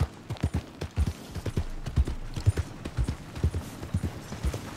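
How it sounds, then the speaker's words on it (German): Steady horse hooves clip-clopping at an even walking rhythm in the video game Red Dead Redemption 2, close and distinct, with no voices over them. "Ich höre ein Pferd."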